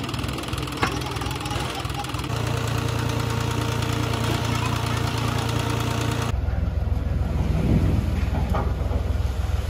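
A tractor engine runs steadily and loud while lifting its trolley on a village ground, a continuous rumbling drone with no talk over it.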